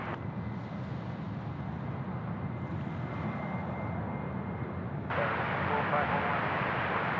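An airliner lands on the runway at Sydney Airport, a distant, steady jet roar that swells into louder broadband rushing partway through, with a voice talking faintly over it.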